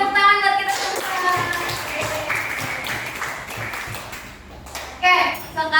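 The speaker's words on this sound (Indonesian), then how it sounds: "tepuk tangan buat kita semua" Children clapping hands in a classroom, a short burst of scattered claps among young voices, with a teacher's voice and chatter around it.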